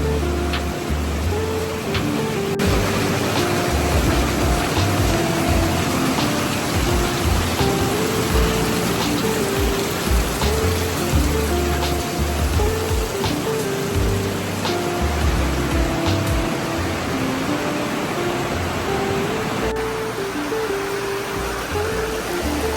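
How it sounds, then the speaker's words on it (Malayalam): Heavy rain falls steadily and loudly at an elephant camp in Konni, a dense unbroken hiss of drops drumming on surfaces from start to finish, with no voices. "അടിപൊളി മഴയാണ്"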